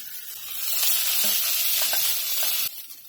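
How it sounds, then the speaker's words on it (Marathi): Cauliflower, broccoli and peas fry in ghee in a pan, giving a close, steady sizzle with faint stirring clicks and scrapes, and no talking. "इथे चार ते पाच मिनटं झालेत भाज्या मी ना छान फ्राय करून घेतल्यात"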